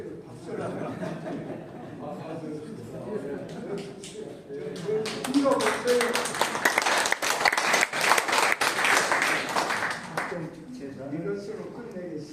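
Audience applause at a church gathering as a pastor is asked to stand, clapping swelling in the middle and fading, mixed with some speech and light chuckling around it.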